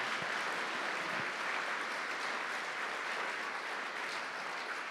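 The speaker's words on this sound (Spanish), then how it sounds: "dele un aplauso al Señor Jesucristo" Congregation applauding during a Spanish-language church service, a steady dense wash of clapping that holds at an even level for the whole stretch with no speech over it.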